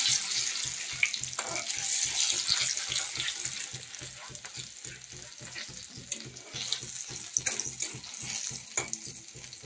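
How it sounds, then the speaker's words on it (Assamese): Nigella seeds and dried red chillies fry in hot oil for a fish curry, giving a steady close sizzle with crackling pops and occasional stirring clatter throughout, no voices. "কালজিৰা আৰু শুকান জলকীয়া সেইখিনি দি দিম সেইখিনি ধুনীয়াকৈ ফ্ৰাই হ'বলৈ দিম"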